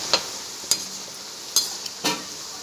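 Khurma dough pieces fry in hot oil and are stirred, giving a soft steady sizzle punctuated by about four sharp scraping stir strokes, close and moderately loud with no voices.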